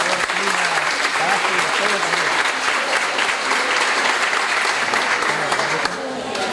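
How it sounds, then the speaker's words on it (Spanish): A crowd of mothers and guests at an education, nutrition and neuroscience congress in Nogoyá applauds loudly and steadily, with cheers and voices rising through the dense clapping before it eases slightly near the end. "un fuerte aplauso para ustedes"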